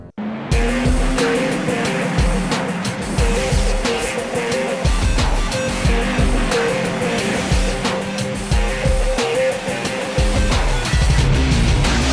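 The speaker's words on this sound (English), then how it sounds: "Hummer Badlands, the racing game" Loud, continuous revving of a Hummer engine in the racing video game Hummer Badlands, with repeated tire squeals and skids over the engine roar, steady and close throughout.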